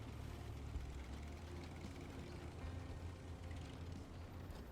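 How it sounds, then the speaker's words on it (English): Heavy truck engine in the off-road driving game Snowrunner, a deep steady low rumble running continuously at moderate level with no breaks. "This thing has got a great engine sound too."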